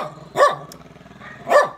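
A dog barks twice, about a second apart, each a sharp single bark at moderate distance with quiet between.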